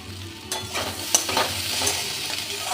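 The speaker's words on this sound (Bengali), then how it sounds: "কুমড়োটা হালকা ভাজা হয়ে এসছে" Diced pumpkin fries in an oiled pan over a steady sizzle, broken by scraping, clattering strokes as it is stirred, all close and moderately loud with no talking.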